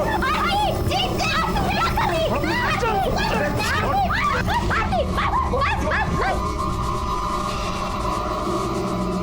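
A dog barks and whimpers in a run of high, yelping cries over steady crowd babble and voices, then the barking stops and only the murmur of talk remains.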